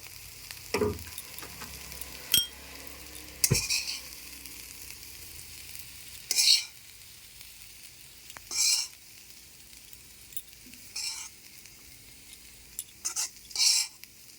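Stuffing for pointed gourd fries in a pan with a soft continuous sizzle, broken by repeated spoon scrapes and clinks, some sharp and close, with no speech.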